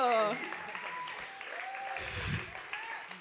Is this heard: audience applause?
yes